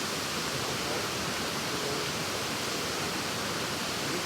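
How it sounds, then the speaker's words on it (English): Steady broadband roar of a small waterfall on the Thiba River in Kirinyaga, heard close up as a continuous, even rush of falling water with no break across the moment. "This is waterfall, guys"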